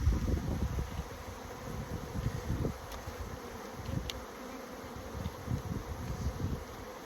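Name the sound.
honeybees buzzing at an opened hive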